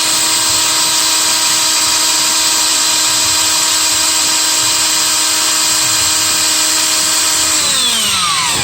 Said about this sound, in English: About to just drill it out and put an insert in it.